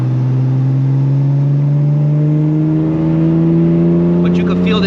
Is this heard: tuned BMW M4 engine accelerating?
yes